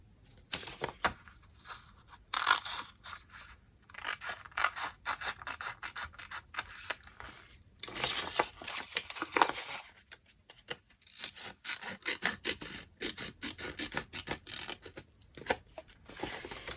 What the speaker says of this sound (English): just cut off all these extra bits of paper